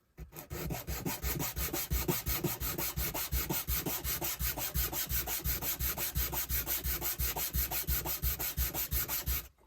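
An emery board is rubbed back and forth against a painted wooden part in quick, even strokes, a close, continuous scratchy rasp heard alone.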